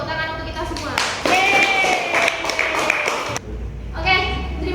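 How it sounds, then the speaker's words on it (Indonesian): A group of students claps together in a high school classroom, a dense burst of hand claps lasting about two seconds, with raised voices and some cheering over it. "Beri tepuk tangan untuk kita semua."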